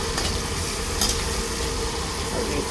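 Pork sizzles and is stirred in a hot pan while being sautéed for pancit, a steady, close frying hiss with brief scraping stir noises and no talking.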